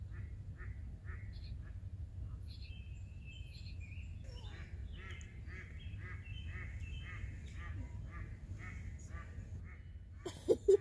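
A duck near a campsite by a train track quacks over and over in nasal bursts against a low steady background rumble, and it grows busier partway through.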